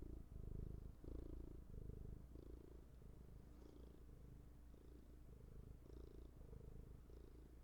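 A large cat purrs up close in a steady rolling rhythm, each breath cycle swelling and fading, soft and continuous with no talk.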